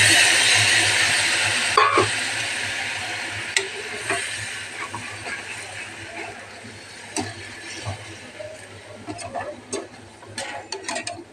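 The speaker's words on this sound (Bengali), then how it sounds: "এবারে আমি অল্প করে একটু জল ঢেলে দেবো" Water is poured into a sizzling egg curry in a hot pan, giving a loud steady hiss that gradually fades, with scattered sharp clicks and scrapes from stirring throughout.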